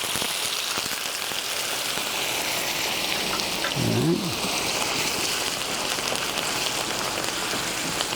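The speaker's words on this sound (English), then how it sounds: "Deglazing means to add a cold liquid to it so that you pull up the sediments that are attached to the bottom of the pan." A hot pan hisses steadily as cold cider hits it for deglazing, a loud continuous sizzle with a brief bubbling burst partway through.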